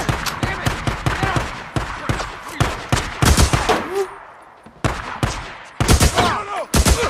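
Gunfire in the video game Days Gone, with rapid loud bursts of shots and single cracks coming in dense clusters, broken by short quieter gaps and distant echoes.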